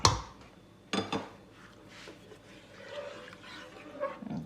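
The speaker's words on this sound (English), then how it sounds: "we're going to add our wet mixture into our dry mixture. Mommy is going to be stirring in the meantime" A wet mixture is stirred into a dry one for whole-wheat Easter spiced bun dough: two sharp spoon-on-bowl knocks near the start, then quieter intermittent scraping and stirring.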